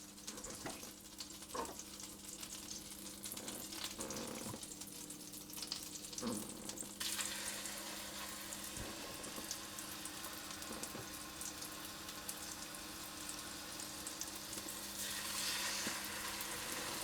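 Chicken pieces fry in a pan for creamy garlic and white wine chicken, a continuous close sizzling hiss that swells louder partway through, with occasional light knocks and no voices.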